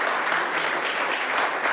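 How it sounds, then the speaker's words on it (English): An audience at a retail technology demo applauding, with dense continuous clapping, fairly loud and steady, with no voices over it. "please welcome Carlos with a big round of applause."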